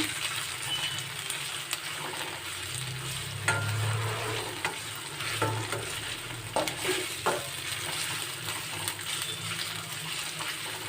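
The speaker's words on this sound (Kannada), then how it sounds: "ಈ ಥರ ಫ್ರೈ ಮಾಡ್ಕೊಳ್ಳಿ ಹಸಿ ವಾಸನೆ ಹೋಗುವವರೆಗೂ ಮಾಡ್ಕೊಳ್ಳಿ" Masala paste fries in a pan for masala noodles, a continuous close sizzle broken by scattered metallic stirring clinks and scrapes, with no one speaking.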